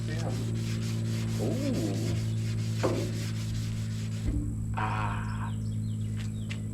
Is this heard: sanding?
yes